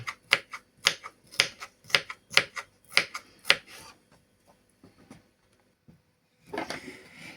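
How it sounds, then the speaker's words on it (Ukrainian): A knife cuts bell pepper into thin strips for a Red Sea salad, about eight crisp, evenly spaced chops on a board, followed by a pause and a short rustle of the pieces being moved. "і перець намагаємося порізати дрібною соломкою"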